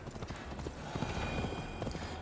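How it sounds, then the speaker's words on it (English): Steady clip-clop of a horse's hooves in Assassin's Creed Valhalla, a quick rhythmic trot heard up close over faint game ambience with no talk. "there's my horse."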